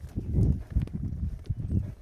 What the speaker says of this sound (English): really looking over there at that other horse, trotting around there with a little bit more spring